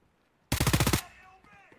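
A rapid burst of about eight automatic gunshots in a competitive tactical shooter match, loud and close, ending abruptly and followed by a faint ringing, fading tail.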